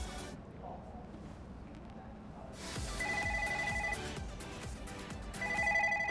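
A telephone line rings out as a radio host dials a listener during a studio call-in giveaway. Two bursts of electronic ringback tone sit over a busy, steady studio background.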